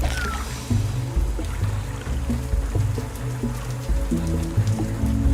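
Steady rain falls in the video game Primal Planet, a continuous soft wash of drops running throughout alongside low game music tones.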